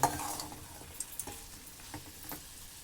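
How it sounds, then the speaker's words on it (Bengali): Chopped tomatoes stirred and frying in a pan for a pumpkin and drumstick-flower chorchori, a soft steady sizzle with scattered clicks and scrapes of the spoon, close and fairly quiet. "এখন দিয়ে দিচ্ছি এর মধ্যে টমেটো কুচোগুলোও দিয়ে ভালো করে নাড়াচাড়া করে মিশিয়ে নেব।"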